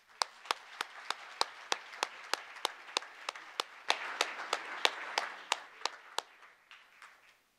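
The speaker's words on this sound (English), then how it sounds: "Let's give her a round of applause." Applause at a board meeting, mostly one or two pairs of hands clapping in a steady beat, sharp and fairly close, with softer clapping from others swelling briefly midway.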